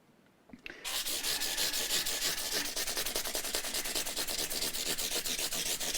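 Steady, rapid scratchy rubbing of a foam sanding block worked back and forth across a Rally GL300 guitar, starting after a brief quiet moment and continuing loud and close.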